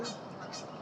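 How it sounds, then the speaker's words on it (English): Ducks calling at a large lake, a short burst of honking, fowl-like calls heard at a distance over steady outdoor background noise. "Look at those ducks."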